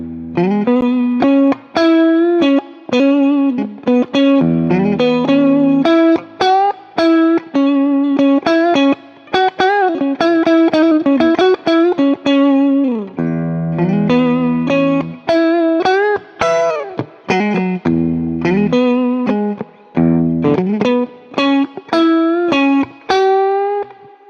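Electric guitar played through an AmpliTube 5 Twin Reverb amp simulation, loud and alone: a steady run of picked single notes and chords with short gaps, clean-toned with a hint of reverb.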